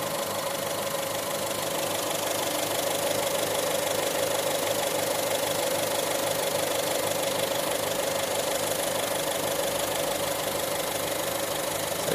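Mazda 5 with a 2.0 diesel engine, freshly treated with Slick 50, idling at a steady, even hum with a constant drone and no obvious knocking, close to the microphone throughout.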